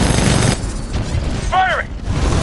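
Weapons firing in the video game Titanfall 2, with a loud, continuous barrage of gunfire and mechanical clatter, plus a short electronic warble near the middle.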